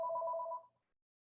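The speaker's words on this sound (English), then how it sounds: "I gotta stop this phone call from coming" A telephone rings once with an incoming call, a steady two-tone electronic trill that stops after about two-thirds of a second and leaves silence.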